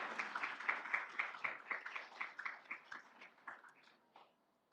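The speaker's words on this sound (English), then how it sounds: "another round of applause for our inductees" Audience at a Phi Theta Kappa induction ceremony giving the inductees a round of applause, a steady patter of many hands clapping at moderate distance for about four seconds before tapering off, fairly faint.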